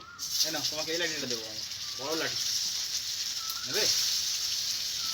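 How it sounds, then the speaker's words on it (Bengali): A semolina snack fries lightly in oil with a soft, constant sizzling hiss, while a voice speaks intermittently close by. "হালকা করে ভেজে নেব"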